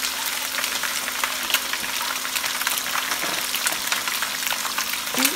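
Onion frying in a pan, a steady close sizzle and crackle of hot oil running throughout with no talking.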